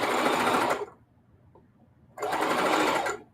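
A sewing machine stitches fabric for a scrappy string-pieced table runner in two loud, steady runs of rapid mechanical whirring, separated by a brief pause.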